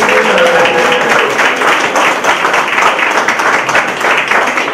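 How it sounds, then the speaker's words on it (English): A crowd claps steadily in sustained, loud applause that fills the room without pause. "Maybe give him a round of applause."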